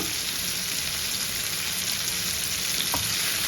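Fresh curry leaves crackle and fry in hot ghee for tomato pulao, a loud continuous sizzle with a brief stirring scrape near the end, no voices.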